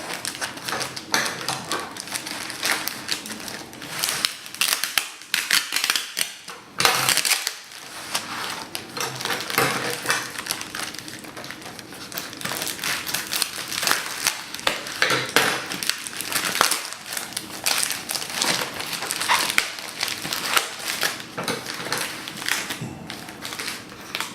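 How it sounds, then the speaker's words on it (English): Cardboard and plastic packaging being pulled off a boxed Beelink L55 mini PC, a steady run of close crinkling, tearing and rustling with brief pauses, alone without talk. "I finally got all the packaging off"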